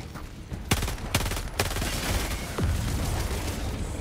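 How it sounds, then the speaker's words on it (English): The Breaker Incendiary shotgun firing in a video game, four sharp blasts spaced roughly half a second apart over a dense battle backdrop. "Peter, try this gun. Okay. The breaker incendiary."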